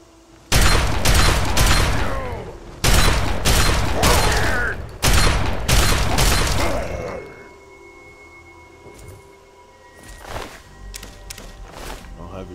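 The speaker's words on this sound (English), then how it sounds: "You're hearing gunshots." Shotgun blasts in the video game Fallout 3, fired from power armor: several loud, evenly spaced booming shots with rattling tails, followed by quieter mechanical clicks and rumbling game ambience.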